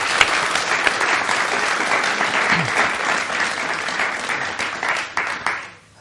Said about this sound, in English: So a round of applause for the speakers,